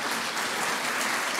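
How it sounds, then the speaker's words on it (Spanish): A conference audience applauds steadily to welcome an expert speaker onto the stage at a technology talk, a dense, continuous clapping with no speech. "recibamos con un fuerte aplauso a nuestro segundo experto de la mañana, Javier Sirvent."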